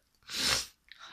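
A single sharp sneeze during a challenge to sneeze as many times as possible in five minutes, close and brief, followed by a faint breathy sound.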